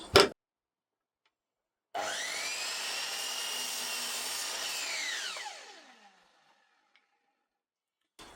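A saw cuts wood into 8-inch pieces for a simple beginner project. The motor runs loud and steady for about three seconds, then winds down and fades, with no talking.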